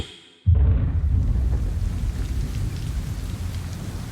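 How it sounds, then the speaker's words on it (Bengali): After a moment of quiet, heavy rain suddenly pours down in a dense, loud, continuous roar. "হঠাৎ মুষলধারে বৃষ্টি নামলো"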